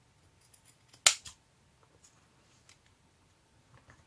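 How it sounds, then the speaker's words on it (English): Fabric scissors make one sharp, crisp snip as they close through material for a handmade journal cover, followed by faint handling ticks in an otherwise quiet room. "Fabric scissors."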